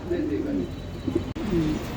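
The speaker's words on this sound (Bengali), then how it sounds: "এটা হচ্ছে একটা শৌখিন কবুতর" Fancy pigeon, a black bolder-size bird, cooing in low rolling bursts close by, with a steady background hum and faint bird sounds throughout.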